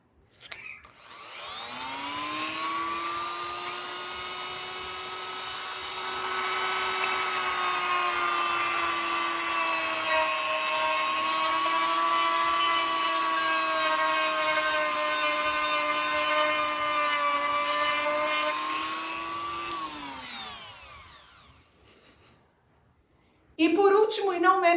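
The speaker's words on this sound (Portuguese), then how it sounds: "uma micro retífica vai ajudar bastante" A micro rotary tool sands a silicone-mold human sculpture, giving a steady, buzzing high-pitched whine that holds for about twenty seconds before spinning down, with a brief noise at the very end.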